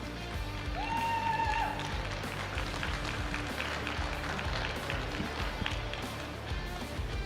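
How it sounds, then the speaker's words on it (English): Audience applause at a PFC 43 MMA ceremonial weigh-in, a steady wash of clapping and crowd noise filling the hall, with a brief whistle-like tone early on. "Round of applause, please."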